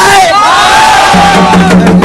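A cheering squad at a market stage event roars back in a loud, sustained crowd shout over a sound system, dense and close, with one long rising collective yell.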